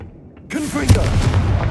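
A Confringo fire spell in Hogwarts Legacy explodes with a loud, sudden burst that lingers as a rumbling crackle. It follows a faint pause and some brief rising tonal swooshes as it is cast.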